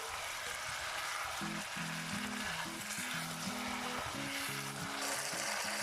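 Chicken stir-fries in a pan for ayam masak kicap, a soy sauce chicken dish, giving off a steady, even sizzle throughout with a light melody of background music playing over it.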